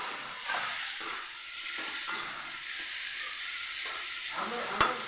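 Chopped tomatoes sizzle in a hot pan for a jackfruit chilli, a steady bright frying hiss with a few clinks of stirring, moderately quiet and without voices.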